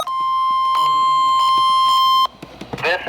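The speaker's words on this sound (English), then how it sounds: "This is a test of the NOAA weather radio warning alarm and EAS signals." NOAA weather radio Emergency Alert System tones: a loud, sustained dual-pitch attention alarm with burst-like data chirps, cutting off sharply partway through, followed by faint background sounds.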